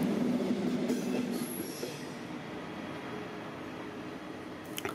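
An electric train hauled by a class 143 locomotive rolls through Frankfurt Central Station, its low rumble and brief wheel squeal fading a little as it passes, with no voices.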